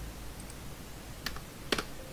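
Fingers tap a computer keyboard in a quiet room: a couple of faint, brief clicks, then a sharper cluster of keystrokes near the end, with no talking.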